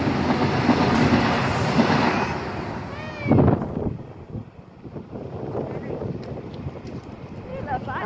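A goods train rumbles across the Kunthi river railway bridge in the evening, a broad roaring rush with wind buffeting the microphone and a brief squeal partway through, while a person talks over it.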